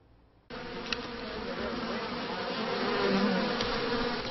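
Honeybees buzzing steadily and fairly close in drought-stricken California, a dense continuous hum that starts abruptly and swells slightly louder toward the end, with no talk.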